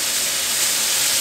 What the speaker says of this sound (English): we're just gonna cook this down, turn it brown, and get some of that bacon grease out of there